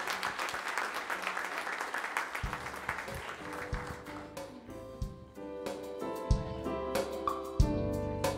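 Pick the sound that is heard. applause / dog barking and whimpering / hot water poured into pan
applause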